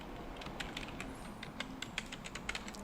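Quiet keyboard typing at a computer while logging in, a run of irregular soft key taps with short pauses, close and faint.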